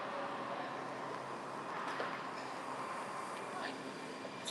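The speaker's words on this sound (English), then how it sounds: "Sounds like one train's leaving." A metro train pulls out of a station, its low rumble and faint squeals carried through echoing platform ambience at a moderate distance while someone speaks quietly nearby.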